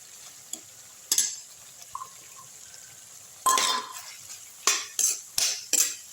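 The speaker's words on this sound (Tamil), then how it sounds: "நல்லா வதக்கி விட்டுடலாம்" Indian gooseberries are stirred in oil in a cooking pan for pickle, with a series of distinct spoon scrapes and metallic clanks against the pan over a quiet background.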